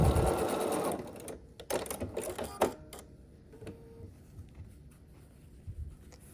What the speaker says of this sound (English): We'll sew across here with 1/4 of an inch seam allowance.